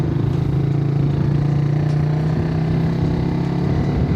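Motorcycle engine held at a steady, light throttle ahead of a clutchless upshift to second gear, a continuous low drone with a constant hum and faint clatter, close and unbroken throughout.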